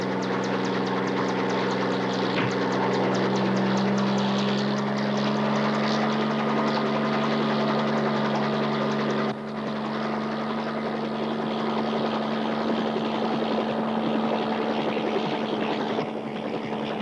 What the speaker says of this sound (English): I want you to get back up in that chopper.